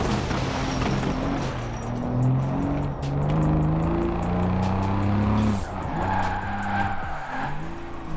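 A car in Forza Horizon 4 pulls away in second gear and sluggishly gains speed. Its engine note climbs steadily, then it shifts with a brief dip and the revving rises again, close and loud throughout.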